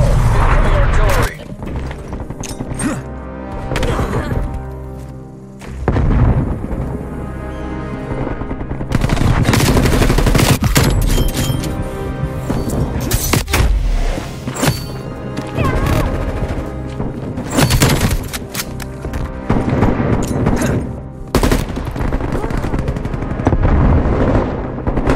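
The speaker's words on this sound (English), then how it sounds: "Incoming artillery." In Call of Duty Black Ops Cold War, incoming artillery strikes crash down alongside sustained gunfire, making a loud, dense, continuous barrage with heavy booms and frequent shots, while voices speak beneath the din.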